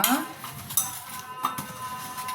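Pots, pans and steel vessels being scrubbed and washed by hand in a home kitchen, with irregular clinks and clatters of metal against metal over quiet running background, sharp knocks standing out at moments.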